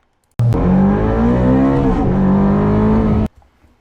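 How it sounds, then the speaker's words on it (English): Ferrari 430 exhaust played back: a loud, high-revving engine wail that climbs, dips briefly around a gear change, then rises again before cutting off abruptly. "Now here's the glorious sound of a Ferrari 430 exhaust."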